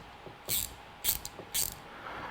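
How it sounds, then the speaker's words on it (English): A ratcheting wrench clicks in three quick bursts of sharp metallic pawl ticks, close and crisp against a quiet background, with a few softer clicks between them. "These are ratcheting wrenches."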